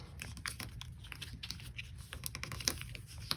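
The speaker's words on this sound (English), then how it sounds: "press down on that spine of the pocket like so to squash fold it" Paper being squash folded while making a competition paper airplane, with close crinkly creasing and brief taps of pressing as the pocket spine is flattened, no talk.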